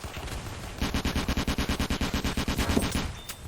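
Rapid automatic gunfire in the Roblox game D-Day, a sustained burst of evenly spaced shots at a fast steady rhythm, loud and close, with no talking over it.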